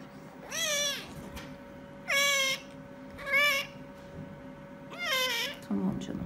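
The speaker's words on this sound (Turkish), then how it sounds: "Bu da tek gözü kör kedimiz." A stray cat, blind in one eye and under veterinary treatment, gives four loud, drawn-out meows at a steady pace, close by, with faint background noise between them.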